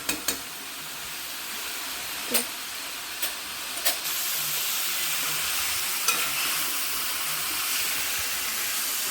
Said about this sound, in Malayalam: ഇനി നമ്മൾക്ക് ഇതിനെ ഒരു മീഡിയം ഫ്ലെയിമിൽ ഇട്ടിട്ട് ഒരു അഞ്ച് മിനിറ്റോളം നന്നായിട്ട് മിക്സ് ചെയ്ത് കൊടുക്കണം